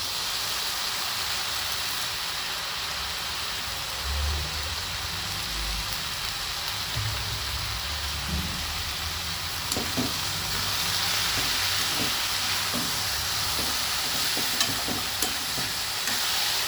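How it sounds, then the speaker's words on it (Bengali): Malabar spinach stems go into a pan of frying potato, onion, garlic, chilli and tomato, raising a loud steady sizzle like heavy rain with occasional stirring clinks, no voices. "এবার দিয়ে দেবো ধুয়ে রাখা পুঁই মুচুরি। এই যে পুঁই মুচুরি আমি দিয়ে দিচ্ছি।"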